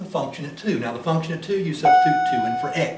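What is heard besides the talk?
bell going off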